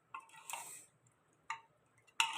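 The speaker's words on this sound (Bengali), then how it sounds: "এবার আমি একটু হাতাটা দিয়ে নাড়িয়ে দেব" A ladle scrapes and knocks inside a pot of desi chicken and potato curry. The short, close strokes come in three separate bursts with quiet gaps between them.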